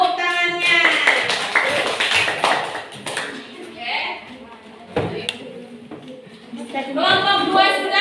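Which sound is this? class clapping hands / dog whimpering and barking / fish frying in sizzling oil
class clapping hands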